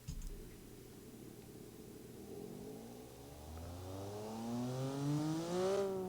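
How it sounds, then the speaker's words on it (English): A car engine in the Automation video game revs and climbs in pitch, the rising tone swelling louder toward the end with no talking over it. "I'll turn up the noise in automation, and by the noise I mean the engine sound"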